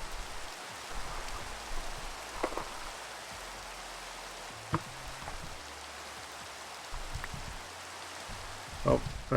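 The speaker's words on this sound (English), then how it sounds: "let's get this rain to go away" Rain falling in a Minecraft modpack, a steady soft hiss of drops with occasional brief clicks and taps over it, even and moderately quiet.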